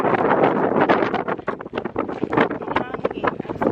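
Strong wind buffets the microphone in rough, gusty roars that rise and fall without pause.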